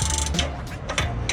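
Close, loud ratchet clicking in quick bursts as a 19 mm nut is loosened on a coilover during a suspension install on a Lexus RC F, the pawl rattling steadily with brief pauses.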